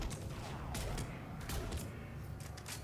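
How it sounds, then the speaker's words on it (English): Gunfire aimed at a Banshee in Mass Effect 3, heard as a rapid series of sharp shots and bursts at moderate distance, with clattering mechanical creaks amid a noisy combat background. "shooting down at the Banshee"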